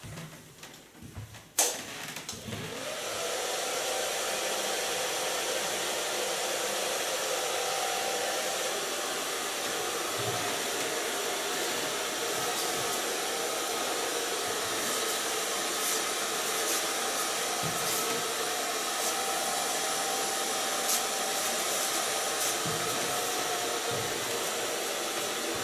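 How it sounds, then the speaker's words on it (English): Hair dryer blowing continuously while hair is styled with a large round brush for a double bob, a steady close whir with small fluctuations as the airflow shifts, preceded by a short handling clunk at the start. "Now start blow drying again with my large brush."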